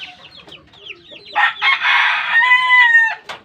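Ormoc Gold chickens in a backyard make soft clucks and chirps, then a loud, close rooster crow rings out with a drawn-out tonal tail, with faint human voices in the background.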